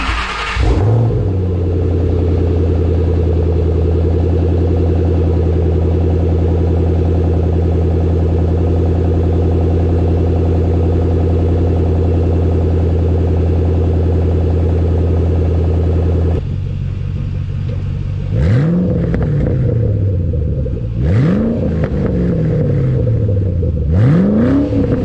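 Ford Mustang Shelby GT500 fitted with an SLP exhaust starts up and settles into a loud, deep idle, then gets several sharp revs that rise and fall, heard up close with no talking.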